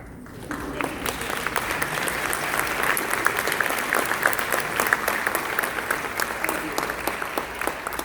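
An audience at a university ROTC commissioning ceremony in Tampa breaks into sustained applause, swelling into a full, even patter of many hands that carries on steadily for several seconds.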